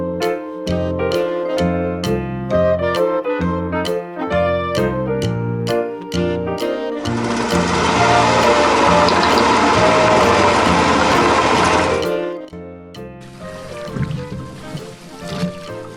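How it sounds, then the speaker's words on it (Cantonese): A toy bulldozer plays a bright, chiming electronic tune, then gives a loud mechanical whirring grind that lasts several seconds, and its melody comes back afterward a little quieter. "B bulldozer 推土機。"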